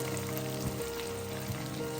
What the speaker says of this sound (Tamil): ஸோ இந்த ஸ்டேஜில் நம்ம வந்து சின்ன வெங்காயத்தை போட போகிறோம்.